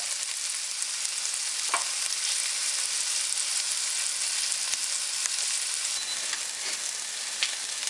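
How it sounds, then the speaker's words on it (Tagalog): Aromatics sauté in a pan for cheesy beef ribs caldereta, a loud, even sizzle that holds steady throughout, with a few faint ticks and no talking. "Pagkatapos nito, isusunod natin yung panggigisa."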